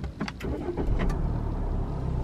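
A Fiat 500X engine is push-button started from the driver's seat, with a short cranking burst that settles into a steady, close idle rumble.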